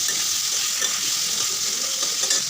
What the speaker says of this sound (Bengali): লবণটা দিয়েও আমি আলুগুলোকে খুব ভালো করে ভেজে নিই